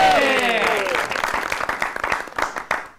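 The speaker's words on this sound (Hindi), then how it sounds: "आपकी भरपूर तालियों में" A television comedy studio audience breaks into hearty applause as a guest comedian is introduced, loud dense clapping swelling right after the host's voice and continuing strongly to the end.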